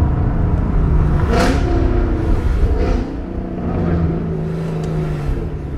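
A powerful AMG sports car engine revs up and eases off nearby, a loud throaty roar rising and falling over a few seconds.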